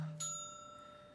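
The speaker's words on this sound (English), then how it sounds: "Alright, I'll ring the bell." A single bell struck once at an unattended sign-in desk, a bright ding whose clear metallic tone rings out and slowly decays, close and fairly quiet.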